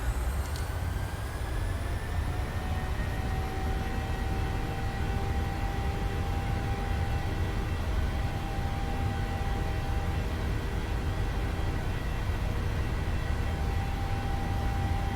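Boeing 737 jet engines in a flight simulator spooling to takeoff thrust, a steady loud roar with a rising whine held constant throughout, no voices over it.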